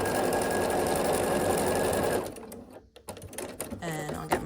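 A sewing machine runs fast and steady along the long edge of a scrappy sampler quilt block, a loud close whir that stops halfway, then someone speaks.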